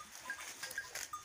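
Goats bleat faintly and briefly in the evening while being fed grass, a few soft high calls over a low background, with no talking.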